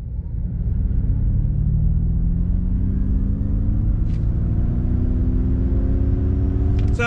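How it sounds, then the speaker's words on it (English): A 2021 Ford Mustang Mach-E electric car pulls away hard from a dead stop, its steady rising motor whine climbing in pitch over loud road and cabin rumble, with no one speaking. "we're gonna do a on throttle from a dead stop"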